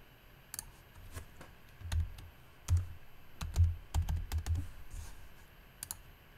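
Keystrokes on a computer keyboard while working on a logo design, a loose cluster of soft, close clicks and taps in irregular bursts, alone with no talk.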